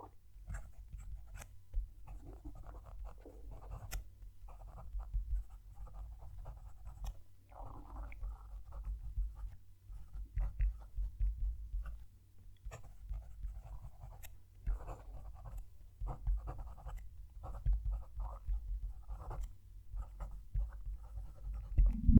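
Ranga Santa fountain pen nib scratching across paper with the mic close to the page, a soft continuous run of faint scritching strokes and pauses.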